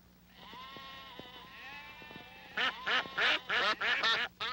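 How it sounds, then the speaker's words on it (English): A few ducks quack in a rapid run of loud, close, nasal calls in the second half, after a quieter stretch of other farm-animal sounds. "Ducks quack."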